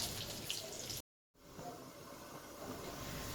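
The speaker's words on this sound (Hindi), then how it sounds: "ये देख सकते हैं कितना ज़बरदस्त सा इसके अंदर हमारी यखनी में जोश आ रहा है, बहुत अच्छी तरह से ये बॉयल हो रही है" Fish stock (yakhni) boiling vigorously in a pot for Pakistani fish pulao: a close, dense bubbling and gurgling wash with a brief cut of silence partway through and no talking.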